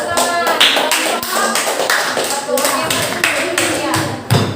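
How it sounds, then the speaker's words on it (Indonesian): Hands clap in a classroom full of students, a quick run of sharp claps spread across several seconds, with a teacher's voice talking over them. "Iya, tepuk tangan."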